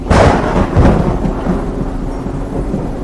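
Rain pours outside with a deep, rolling rumble of thunder that peaks in the first second and fades into a steady wash of rainfall, with no voices.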